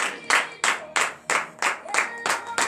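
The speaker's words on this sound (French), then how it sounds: "je demande à tout le monde d'applaudir pour reconnaissance à notre Seigneur" A church congregation claps in unison during a morning prayer service, a steady run of about eight rhythmic group claps, loud and close.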